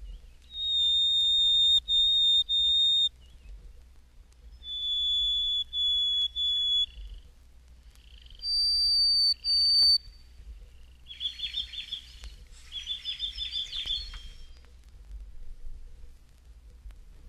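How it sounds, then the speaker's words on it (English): Harris's Sparrow song: several clear, pure whistled notes on a steady pitch, repeated in separate phrases, then a couple of buzzier, chattering phrases near the end, close and alone over a quiet low background. "Harris's Sparrow"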